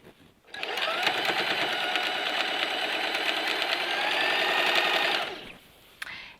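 A sewing machine stitches the hem of a rockabilly skirt in one steady run of rapid mechanical chattering lasting about five seconds, close and loud, then stops abruptly and a small click follows.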